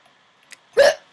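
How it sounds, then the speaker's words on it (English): One loud, sharp hiccup sounds close by, after a tiny faint click, against near silence. "these hiccups"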